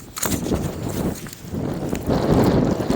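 Strong wind blows during a snowfall at minus four to five degrees, a loud and constant roaring buffet with gusts that swell toward the end.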